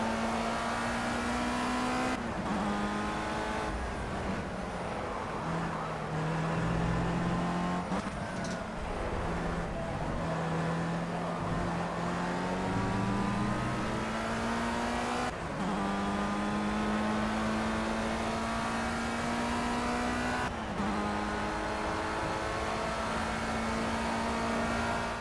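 A Formula Rookie race car engine in Project CARS drones loud and steady throughout, rising in pitch through each gear and dropping sharply at shifts, with no talk.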